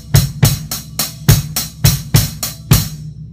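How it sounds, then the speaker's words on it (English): Drum kit lick of paradiddle-diddles on the hi-hat with bass drum strokes on the final left-hand notes, played as a quick repeating pattern of sharp cymbal hits over thumping kicks, close and loud with no talking. "the first part of this idea starts on the hi-hat playing paradiddle diddles"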